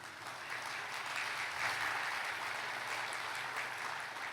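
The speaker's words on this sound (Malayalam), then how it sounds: "ഒന്ന് കൈയടിച്ചേ." A church congregation claps hands together in a steady, even burst of applause lasting a few seconds, filling the hall without speech.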